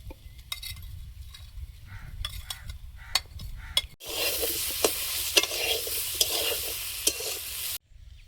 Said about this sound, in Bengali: সয়াবিন আলু প্রায় ভাজা হয়ে গেছে, এবারে আমি মশলাটা দিয়ে দেবো